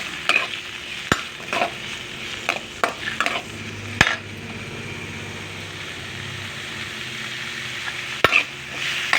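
Spices and onions fry in a pan for a masala brinjal dish under a low, even sizzle. Repeated sharp clinks and scrapes from a stirring spatula punctuate it, close and fairly crisp.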